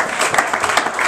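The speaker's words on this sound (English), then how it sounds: "You can give the Lord a hand clap and be seated." A church congregation gives a quick hand clap, a brief spell of scattered, overlapping claps with a few sharper peaks.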